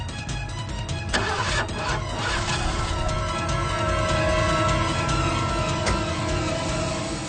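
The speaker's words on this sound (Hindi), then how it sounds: "लेकिन मेरी गाड़ी स्टार्ट नहीं हो रही थी।" A car engine cranks repeatedly without catching, a strained starter whirring on and on in a dense, loud, continuous grind throughout.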